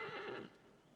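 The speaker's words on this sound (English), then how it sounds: "this horse doesn't understand that it can step off of rocks." A horse whinnies loudly in the video game Shadow of the Colossus, a single close, strained neigh that fades out over about a second with no talking.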